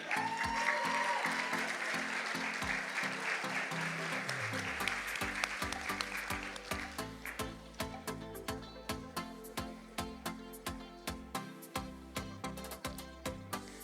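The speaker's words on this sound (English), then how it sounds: "still give her a round of applause" Applause at a Christmas dinner and awards modeling show rises densely in the first half, then thins into scattered claps over a steady rhythmic music track that carries on to the end.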